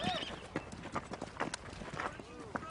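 Irregular hoof clip-clops on a hard surface, close and fairly quiet, mixed with talking voices.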